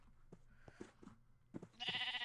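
Minecraft sheep bleating quietly in a short string of soft, nasal calls, the last one brighter and louder.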